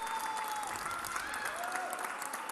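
Sustained applause from a studio audience at a professional table tennis match fills the space steadily, with a few bright tonal sounds gliding over it.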